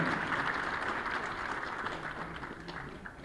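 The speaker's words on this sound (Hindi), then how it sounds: "तालियों से स्वागत कीजिए" Faint, steady applause from a large audience at an appointment-letter ceremony welcoming newly selected sub-divisional magistrates, a continuous distant wash of clapping.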